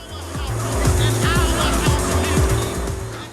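Engine of a game car in GTA San Andreas straining uphill, a steady low roar with repeated rising revs and tire noise, continuous and loud throughout.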